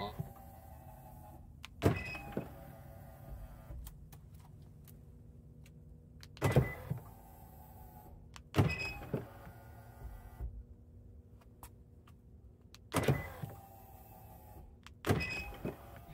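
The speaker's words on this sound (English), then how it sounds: "We have squealing door handles" Several sharp squeaks and clunks from Hyundai Ioniq 5 door handles in near-freezing cold at regular intervals, each a brief high-pitched squeal over a quiet background hum.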